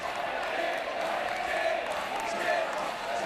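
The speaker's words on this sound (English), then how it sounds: "Plenty of fist pumping and cheering in the grandstands" A crowd cheers from the grandstands at a senior schools swimming carnival, a steady, distant roar of voices that holds evenly throughout without any clear peaks.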